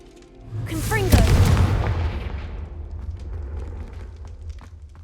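A Confringo blasting spell explodes in Hogwarts Legacy with a single loud, deep boom that swells and rolls out over about a second, then fades into a long low rumble with crackling debris.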